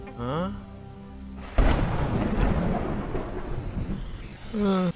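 A sharp thunderclap bursts into steady, close rain, and the downpour continues with rumbling thunder. A voice speaks briefly before the thunder and again at the end.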